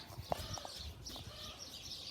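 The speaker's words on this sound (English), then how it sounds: "there's a bird, but what is going on in the trees?" A bird calls from the trees outdoors, giving a few short chirps against steady background noise, with no speech in between.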